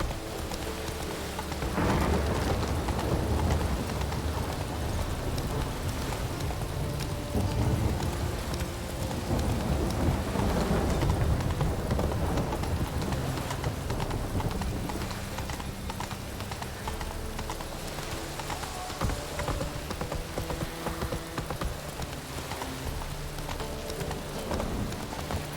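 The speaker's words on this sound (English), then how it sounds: "Raining again." Steady rain patters across the scene in The Witcher 3, mixed with the rhythmic clip-clop of horse hooves and a low rumble, continuous and fairly dense throughout.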